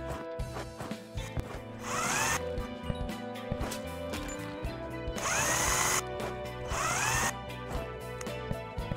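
A power drill drives screws in the House Builder video game while building a Canadian house, with three whining high-pitched bursts of the motor over a steady in-game background hum.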